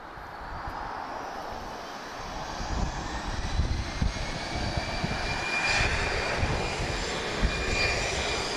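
Airbus A319-112 jet airliner with uprated engines taking off at Lisbon Airport, a distant, steady engine roar that slowly swells and rises in pitch over several seconds, with no other sound.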